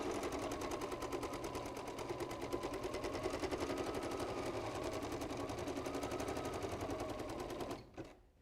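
A Kimberbell embroidery sewing machine stitches in a fast, steady, loud mechanical rattle that runs without a break for about eight seconds before stopping abruptly.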